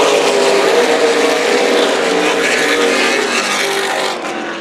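Super late model race cars roar under acceleration on a restart at Tucson Speedway's Turkey Shoot 125, a dense, loud sustained engine howl from a pack of cars that eases off slightly near the end.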